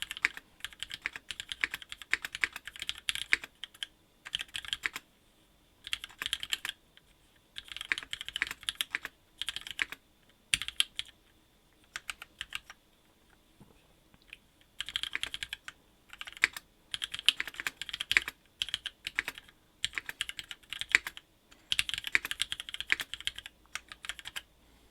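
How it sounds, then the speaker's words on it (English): Mechanical keyboard typing on a TGR-910 fitted with Nixie switches, with bursts of rapid key clacks separated by short pauses, close and fairly quiet, with no talking. "let's try and do a typing demo"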